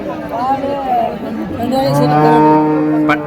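A native cow moos loudly at a cattle market in Uthangarai, Krishnagiri district, with long drawn, rising and falling calls over faint background chatter.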